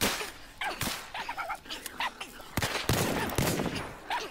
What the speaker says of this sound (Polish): Parę strzałów.